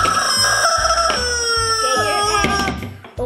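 A squawking toy chicken from the Squawk Chicken tabletop game lets out loud, strained crowing squawks with a throbbing low rhythm, running nearly continuously for a few seconds close to the listener.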